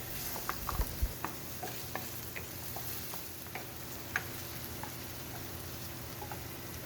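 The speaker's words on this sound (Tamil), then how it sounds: "ஸோ ஆனியனை ஒரு 3-4 மினிட்ஸ் மட்டும் சாட்டே பண்ணால் போதும்" Onion with ginger and garlic sautéed in a pan for a cauliflower manchurian, a soft, fairly quiet sizzle under scattered light ticks and taps of stirring.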